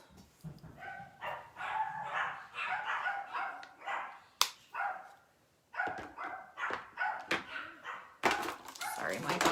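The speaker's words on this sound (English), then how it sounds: "my dogs are barking at the door and Chris isn't home." Pet dogs bark repeatedly at a door indoors, a run of sharp, fairly close barks and yips in irregular bursts with short gaps and a pause midway.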